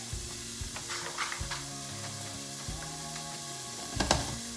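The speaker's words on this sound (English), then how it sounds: "Get our onions frying up" Soft, steady sizzling of onions frying in olive oil on a stove, quiet and close, with occasional light clicks and scrapes.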